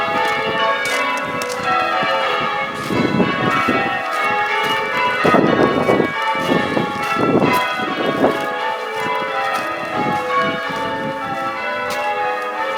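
Six church bells at Heptonstall church ring in a rapid, steady change-ringing pattern, a continuous cascade of overlapping metallic tones heard from outside, loud and unbroken without talk.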